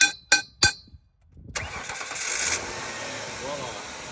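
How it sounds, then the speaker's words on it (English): Three sharp knocks on a car's starter solenoid, a short pause, then the engine catches and settles into a steady, fairly loud idle. "let's see if the car actually starts"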